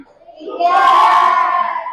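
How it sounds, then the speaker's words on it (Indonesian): Students in a junior high classroom clap their hands in applause, a brief burst of group clapping that swells and stays loud, mixed with children's voices calling out. "Tepuk tangan dulu dong."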